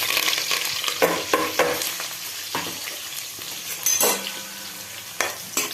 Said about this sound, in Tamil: இப்போ நம்ம அந்த வெங்காயம், பச்சை மிளகா, கருவேப்பிலை போடுறோம்.